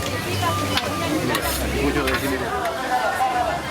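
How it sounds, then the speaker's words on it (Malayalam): Lentil fritters like urad vada crackle and hiss as they deep-fry in oil in Peru, a dense steady sizzle with people chattering nearby. "ഇവിടെ നമ്മുടെ ഉഴുന്നുവട പോലൊരു സംഗതി എണ്ണയിൽ വറുത്ത് കോരിക്കൊണ്ടിരിക്കുന്നു."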